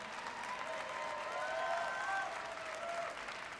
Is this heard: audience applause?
yes